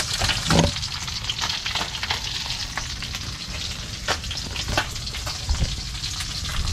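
Food frying in a pan, a steady loud sizzle with crackling pops and occasional sharp spits throughout, no voices.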